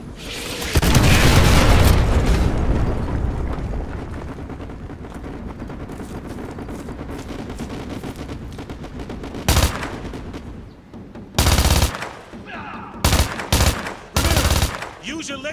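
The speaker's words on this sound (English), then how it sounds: "call artillery on the enemy vehicles" Artillery explosions from a called-in strike on enemy vehicles in Call of Duty Modern Warfare 2 Remastered: a long roaring blast cluster up front, then several sharp separate booms near the end over continuous battle noise.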